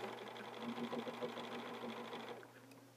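A sewing machine stitching along a quilting template runs in a fast, steady mechanical whir for a few seconds, then slows and stops near the end, close up with no talking.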